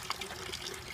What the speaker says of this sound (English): So all we have to do now is pour off what we don't want,